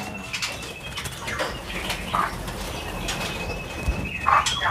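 Chirpy, warbling calls of a pair of straw-headed bulbuls in short bursts, with some fluttering wing sounds, close by in a breeding enclosure over a steady background hiss.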